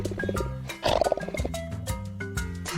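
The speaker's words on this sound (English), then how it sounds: "lion" A lion lets out a deep, loud roar that swells briefly in the middle, set against a steady tonal background throughout.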